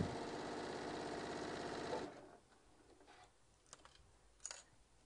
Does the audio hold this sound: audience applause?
no